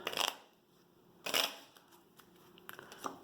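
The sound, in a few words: playing cards being shuffled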